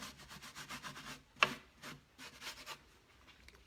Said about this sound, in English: You can take a washcloth and then manipulate it, and you can rub it